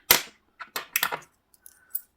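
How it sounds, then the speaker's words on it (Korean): Coins are dropped into cash savings, giving a handful of short metallic clinks and taps in quick succession, close and otherwise quiet. "그리고 동전들 넣어줄게요."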